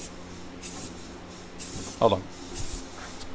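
Spray paint going on as a light coat, with overspray. Several short hissing bursts stand apart between speech, and a voice comes in briefly in the middle.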